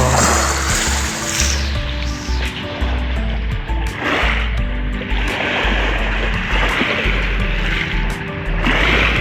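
Sea waves roll onto the shore at a beach resort, a loud, continuous wash of surf with surging swells rising and falling throughout.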